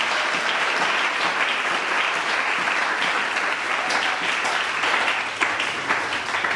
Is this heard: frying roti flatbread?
no